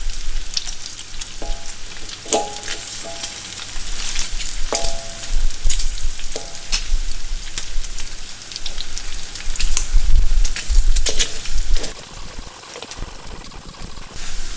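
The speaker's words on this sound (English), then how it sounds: "you have to keep on stirring because otherwise the fat will stick to the wok" Pork fat sizzles and crackles steadily in a wok as it renders into lard, with short scraping clinks from repeated stirring over the continuous close frying hiss.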